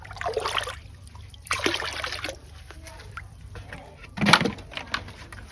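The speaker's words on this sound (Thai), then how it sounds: "ก็ตักพอดีนะคะ ก็ได้ใส่ลงภาชนะปลูกที่เตรียมไว้เลย เป็นน้ำที่เปิดไว้" Water scooped and poured into a planting container prepared for growing azolla fern, heard as a few separate splashing, trickling pours close by, with a faint steady background hum and occasional bird sounds.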